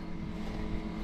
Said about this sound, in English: that's the air compressor you're hearing